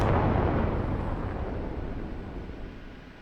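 AGM-114K missile launched from an OH-58D Kiowa Warrior helicopter in the DCS combat flight simulator: a loud, close rushing roar that starts at full strength and slowly fades over a few seconds, with no voices.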